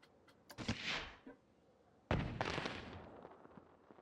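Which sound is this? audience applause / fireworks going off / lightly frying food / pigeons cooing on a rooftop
fireworks going off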